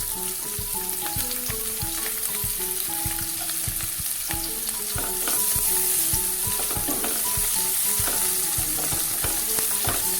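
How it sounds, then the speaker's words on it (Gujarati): Finely chopped onion with chopped chilli frying in oil over a low gas flame, a steady close sizzle with light spatula scrapes and clinks running through, no voices. "તેમાં ઉમેરીશું આપણે ઝીણી સમારેલી ડુંગળી"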